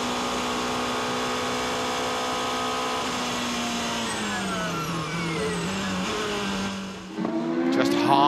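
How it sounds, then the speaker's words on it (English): Number 2 Porsche hybrid race car at the Nürburgring during the WEC 6 Hours, a loud steady engine tone that drops as it coasts and brakes, pitch sliding down before a sharp change near the end. "Just half a second of coasting before you can hear the brakes being applied"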